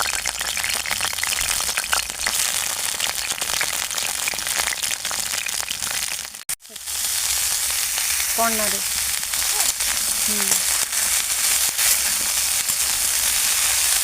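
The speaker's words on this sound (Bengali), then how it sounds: "এরপরে এতে দিয়ে দেবো ধুয়ে রাখা ব্রোকলিটা আমি ভালোভাবে ভেজে নেব" Vigorous sizzling of broccoli frying in oil runs steadily, with a brief break partway through, a few utensil scrapes, and a short spoken word near the end.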